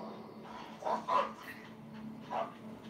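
A dog barks and growls a few times at moderate distance under a steady background hum, with someone talking over it.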